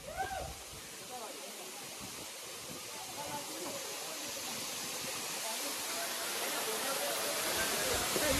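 Rushing water at Katika waterfall in Araku makes a soft, steady broadband roar, continuous and fairly distant throughout.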